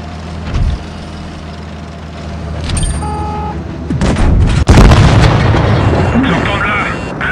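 Tank cannon shots and explosions in the World of Tanks Blitz battle game: several loud booms and blasts with one sharp hit near the middle, over a rumbling engine bed, with someone talking excitedly throughout.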